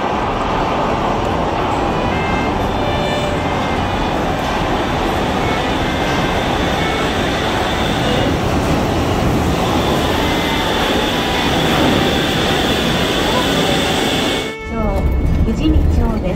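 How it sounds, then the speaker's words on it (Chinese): A pink Shonan Monorail suspended train runs past on its overhead rail, a loud sustained rumble and whine that holds for most of the stretch before cutting off sharply near the end. "然后我们可以看到这个湘南列车过去了"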